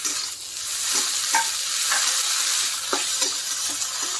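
Frozen peas are stirred in a frying pan for poha, a steady close sizzle with soft scraping strokes recurring every second or so, without speech.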